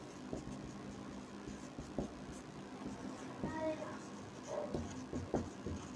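Chalk or marker writing on a board during a Class 9 science lesson, soft scratches and taps close by under low room noise, with faint voices in the background.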